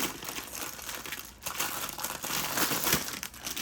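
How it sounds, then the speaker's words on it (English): Plastic packaging of a diamond painting kit crinkles loudly and close up, in continuous crackling bursts with no talking. "Sorry about all that crinkle."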